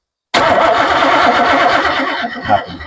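A 350 V8 in a third-generation car cranks over loudly and close up, a steady rapid chugging of the starter that begins abruptly and continues without catching.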